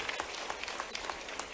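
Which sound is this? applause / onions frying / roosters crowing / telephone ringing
applause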